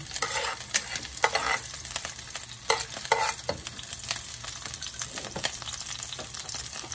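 Chopped garlic frying in hot oil while shrimp with string beans is being prepared, a steady crackling sizzle broken by sharp spoon scrapes and stirring clatters against the pan, moderately close and fairly quiet throughout.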